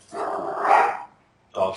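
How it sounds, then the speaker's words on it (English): Dogs bark in two loud, close bursts, one long and one short, with a brief quiet gap between them. "Dogs are going crazy."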